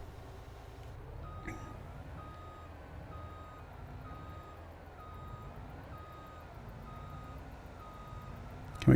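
A semi truck reverses in Farming Simulator 22. Evenly spaced beeps repeat steadily over a low engine rumble, and a sharp clunk comes near the end.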